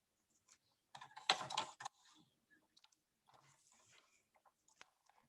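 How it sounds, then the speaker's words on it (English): A paper trimmer with a metal wire guide slices a paper strip for a handmade floral card: one short, crisp burst of cutting, with a few faint taps and handling sounds after it. "let's get that other strip trimmed down"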